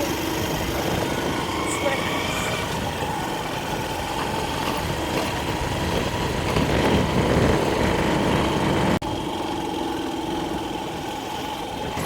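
A small scooter engine drones steadily while riding, with wind rush over the microphone; the hum stays close and constant, rising slightly midway.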